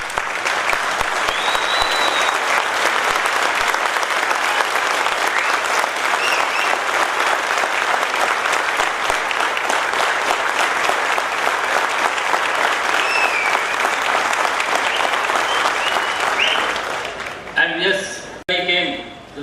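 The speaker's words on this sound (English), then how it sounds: "I wanted a standing ovation for our chairman, sir." Sustained applause from a large audience giving a standing ovation to a chairman at an engine test event for an Indian main battle tank, dense and steady for about seventeen seconds before tapering off.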